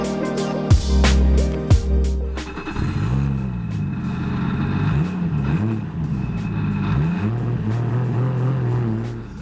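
A Toyota JZX100 Mark II with a 1JZ engine, its clutch worn, drives a hairpin mountain road near Nikko, Japan: two sharp throttle blips, then a loud engine rising and falling through revs and gear changes, close and raw.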